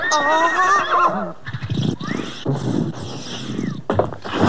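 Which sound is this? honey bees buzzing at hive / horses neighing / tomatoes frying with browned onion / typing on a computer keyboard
horses neighing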